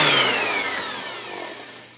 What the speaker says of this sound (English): I'll sand a little bit off this side and feather it onto that.